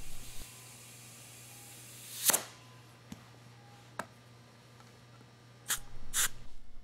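Air hisses in short bursts while a BCS mowing sulky tire is inflated toward 25 psi, with a few sharp spurts and a longer hiss near the end, close by and fairly quiet.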